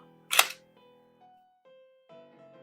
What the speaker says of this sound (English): First thing you wanna do is go ahead and take the dust cover off.